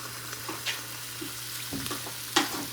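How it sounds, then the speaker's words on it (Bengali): Tel pitha, a malpua-style batter, frying in hot oil with a steady close sizzle and occasional soft crackles and spoon taps. "তেল গরম হয়ে গেছে, এবার এক এক করে আমি তেলের পিঠে তৈরি করে নেব"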